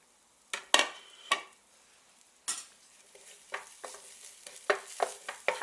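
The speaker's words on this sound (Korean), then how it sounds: "자, 파, 마늘, 생강을 모두 넣고 볶아줍니다." Green onion, garlic and ginger stir-fried in a hot pan over low heat, with a quiet sizzle and a series of sharp spatula scrapes and taps against the pan, close and clear.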